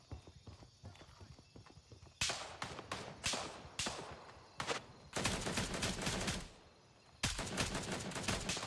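Gunfire sounds in Gray Zone Warfare as sharp single shots and then longer sustained bursts, loud and close, with short quieter gaps between volleys over a faint low background.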